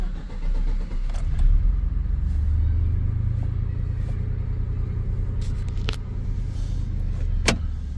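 A 1996 Chevy S10 pickup with a 4.3 V6 and Holley Sniper fuel injection drives slowly downhill, a steady low engine rumble close by with a few light clicks and knocks.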